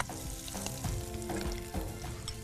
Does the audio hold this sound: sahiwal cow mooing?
no